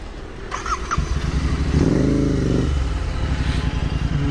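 A Royal Enfield Continental GT650, a 650cc motorcycle, rides along with a steady, loud engine drone that swells into a stronger pull midway, no talk over it.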